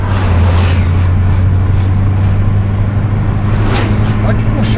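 Volkswagen Santana engine pulling hard under acceleration inside the car, a loud, steady low drone with people talking over it.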